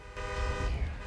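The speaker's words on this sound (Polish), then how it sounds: "Zatrąbię ja." A car horn sounds in Grand Theft Auto Online, one steady honk lasting about a second under a rumbling in-game engine, with no talking.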